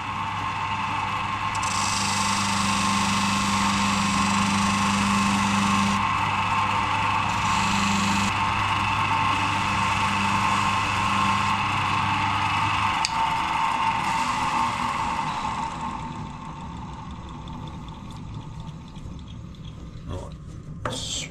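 Buffing wheel spinning with a steady motor hum and a brighter whine as a metal tank bracket is polished against it, loud and continuous, dropping off toward the end as the machine winds down.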